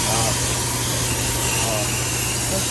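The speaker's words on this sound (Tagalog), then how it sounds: "Power spray lang po yan." A power sprayer washes the air-conditioning condenser of a 2017 Toyota Innova, giving a constant loud hiss of water spray over a low engine-like hum, with a person talking underneath.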